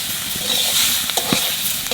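Leafy elephant foot yam greens stir-frying in a pan with salt and a little turmeric: steady, close sizzling with occasional scraping stirs, no voices.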